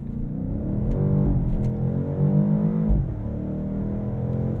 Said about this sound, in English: I then hold my foot hard on the brake and pin the throttle to activate the launch control system